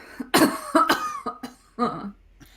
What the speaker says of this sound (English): I think some blood comes out as you cough there